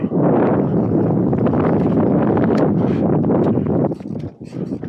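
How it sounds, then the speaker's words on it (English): Strong wind buffets the microphone outdoors at a wingskate session, a loud continuous roar that eases off near the end, with no talking. "I still got some wind!"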